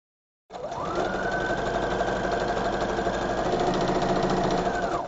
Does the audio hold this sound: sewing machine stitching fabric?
yes